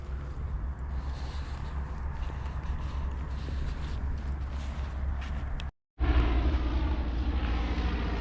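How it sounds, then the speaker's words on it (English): Small propeller planes flying low over a hiking area near Whitehorse, Yukon, produce a steady, distant droning hum under wind rumble, briefly cut out, then returning louder and closer. "another small plane"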